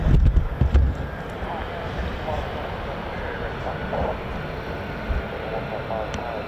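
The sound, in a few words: F-35 fighter jet engine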